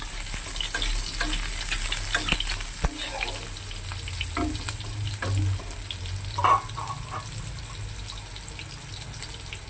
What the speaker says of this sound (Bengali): বেগুনটা একটু লাল লাল করে ভেজে নেব।